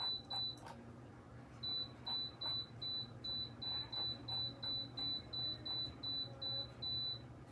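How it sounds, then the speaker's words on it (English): A kitchen appliance beeps in a steady run of short, sharp electronic tones while its timer is set, about a dozen evenly spaced beeps over quiet room noise. "Beep, beep, beep."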